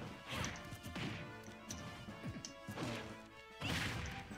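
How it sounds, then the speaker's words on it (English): Repeated heavy smash-and-whack impacts from forward smash attacks in Super Smash Bros., Donkey Kong fighting online in quickplay, landing as loud bursts roughly every second over busy game music and effects. "Forward smashing it up."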